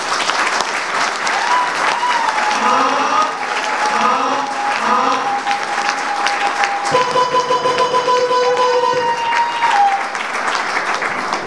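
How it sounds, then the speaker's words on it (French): An audience applauds graduating primary-school teachers at a ceremony in Gabon, with steady sustained clapping from a crowd filling the whole stretch, while music plays underneath. "Je demande à l'assistance de bien vouloir applaudir très fort les récipiendaires."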